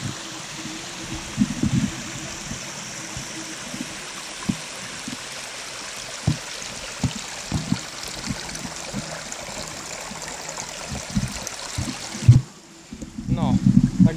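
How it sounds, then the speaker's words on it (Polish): A waterfall in the Tatra mountains near Morskie Oko roars in a steady broadband wash, with a voice talking briefly over it, before the sound cuts off abruptly near the end. "tu jest wodospad piękny"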